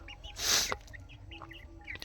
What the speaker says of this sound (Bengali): এইটা মুরগি এইটা মুরগি আর এইটা মুরগি